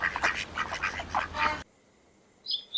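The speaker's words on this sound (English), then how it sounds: "This is a duck sound." A duck quacks in a quick run of nasal calls, then falls silent before a short, higher squawk near the end, close and clear with no other sound around it.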